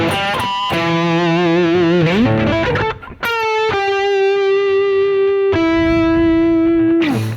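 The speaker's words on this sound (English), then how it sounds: "Now I was playing with maximum distortion, still the same little lick" Electric guitar playing a short lick through maximum distortion, loud sustained overdriven notes with bends and long held tones, ending abruptly.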